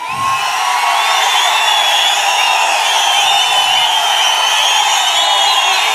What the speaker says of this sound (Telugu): గట్టిగా ప్రసాదరావు గారిని గెలిపిస్తామని చప్పట్లు కొట్టి హర్షాన్ని, ఆమోదాన్ని తెలియజేయండి